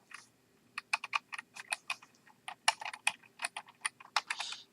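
Irregular bursts of clicking keys on a computer keyboard, near and moderately loud, typed in short uneven runs with brief pauses and no voices.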